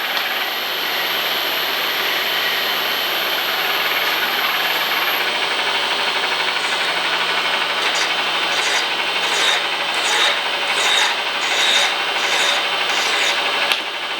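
A grinder works a taper on a precision bushing, a steady close rasping hum that holds through the whole stretch with a faint rhythmic whine pulsing on top.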